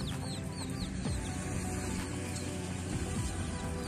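Several free-range chickens cluck and chirp continuously in a busy outdoor flock in Sisaket, Thailand, with high bird calls scattered above a steady background murmur.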